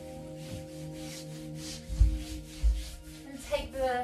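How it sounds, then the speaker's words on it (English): Hands rubbing firmly and briskly over skin and clothing during a guided restorative movement session, a few soft swishing strokes over a steady musical background. "We're going to rub firmly"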